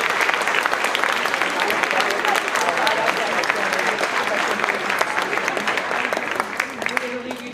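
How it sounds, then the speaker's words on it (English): Sustained audience applause fills a school holiday band concert hall, steady and dense for several seconds before thinning slightly near the end. "Let's give them a big round of applause."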